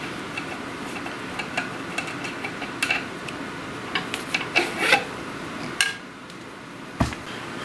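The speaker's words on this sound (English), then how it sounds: "to change the sanding spool, you just loosen up this rubber piece, and this actually should just come right off" The sanding spool is worked loose from an antique Boice-Crane spindle sander, giving soft rubbing and scraping with scattered clicks and knocks from the rubber piece and paper tube, close and fairly quiet, with no voices.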